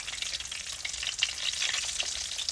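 Fish frying in oil in a pan, a steady bright crackling sizzle with scattered pops, continuous and close without any talk.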